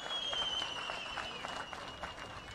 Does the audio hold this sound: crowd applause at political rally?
yes